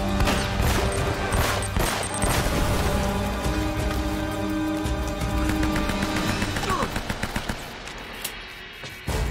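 Rapid bursts of automatic gunfire from the video game Uncharted: Drake's Fortune, dense sustained volleys over a layer of game music, thinning into separate shots near the end.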